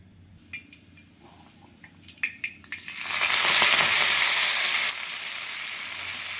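Oil poured onto a hot iron tawa gives a few light clinks and taps, then breaks into a loud, steady sizzle that drops a notch partway and keeps hissing close by.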